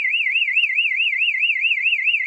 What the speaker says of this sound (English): this alarm will then be blaring away for you all to hear